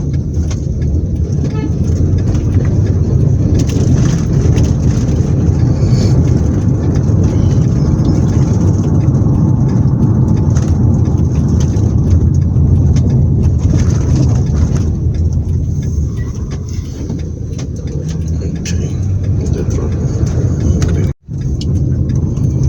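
A car drives through Eland Town in Onitsha, Nigeria, with a continuous interior road and engine rumble lasting the whole stretch, steady and fairly loud, plus a brief dropout near the end.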